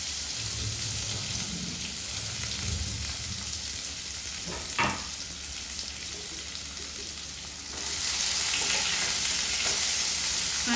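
Onion goes into hot oil with bloomed cumin for palak paneer, giving a loud, continuous close sizzle with a brief clatter near the middle, the hiss swelling stronger toward the end, no voices.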